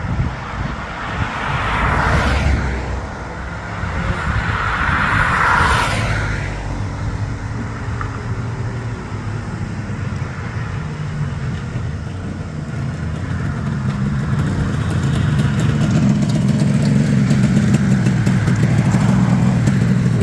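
A 1969 Kawasaki Mach III 500 two-stroke triple motorcycle roars past nearby, its pitch rising then falling, before a steady low engine drone builds and continues to the end.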